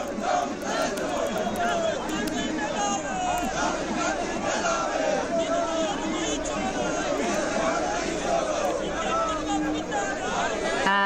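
A large crowd at a Rahul Gandhi road show chatters, shouts and cheers continuously in an open street, a dense, steady babble of many voices with occasional louder calls rising above it.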